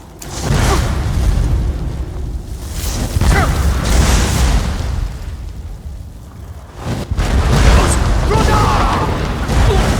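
A dragon shout is unleashed during combat in the video game Skyrim, with heavy booming blasts and roaring bursts that rise and fall across the whole stretch. The sound is loud and dense, mixed with other battle noise.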